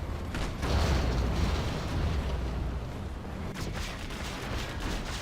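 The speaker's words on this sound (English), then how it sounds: "He comes in now with the Scud launchers." Scud launchers fire in Command & Conquer Generals Zero Hour, giving heavy rumbling booms and a sustained roar of explosions, then sharper bursts near the end.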